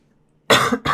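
A single harsh cough after a brief quiet moment, followed by the start of a second cough.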